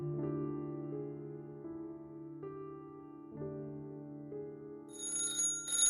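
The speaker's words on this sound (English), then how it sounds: "A half hour later, and a phone began to ring." An old-fashioned telephone rings in a silent house, a steady sustained bell tone repeating in long pulses, joined near the end by a brighter, higher ringing burst.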